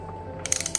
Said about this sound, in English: we've got the torque wrench set to 108